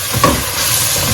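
Onions fry in coconut oil for Nigerian yam pottage, a loud close broadband sizzle with a brief clatter near the start, steady and hissing to the end.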